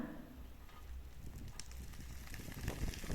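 Green beans sautéing in a pan: soft, faint sizzling and crackling with a few scattered pops and stirring scrapes near the end.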